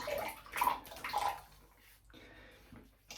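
Water splashes and sloshes as a face is rinsed after a shave, with close bursts of splashing that fade into quieter dripping and a pause.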